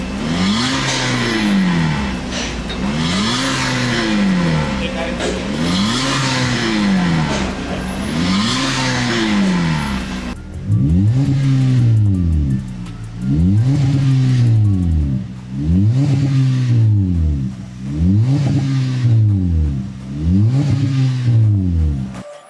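A Toyota Yaris Cross with a catback exhaust, custom resonator and Spitfire muffler and tip revs repeatedly, a loud close series of rhythmic engine blips rising and falling, around a dozen in sequence.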